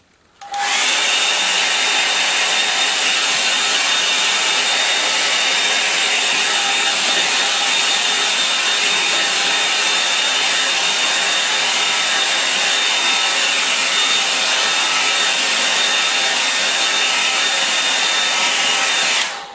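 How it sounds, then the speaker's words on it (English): A hair dryer blows continuously at close range, a loud steady whooshing roar with a faint high whine, switching on at the start. "I'll just give it a bit of a dry with the hair dryer."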